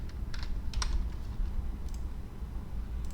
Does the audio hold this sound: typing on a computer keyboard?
yes